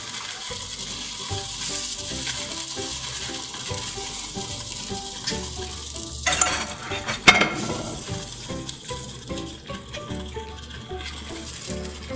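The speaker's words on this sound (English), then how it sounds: "Drain our pasta, our linguini. I got a colander already in my sink over here." Hot water and cooked linguini pour from a pot into a colander in a kitchen sink, a steady splashing rush that grows into a louder gush partway through, then settles into dripping and draining.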